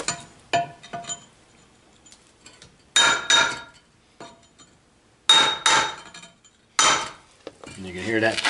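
Hammer and chisel strikes scoring a concrete block, sharp ringing clinks in short clusters with quiet gaps between, close and bright, with no speech over them.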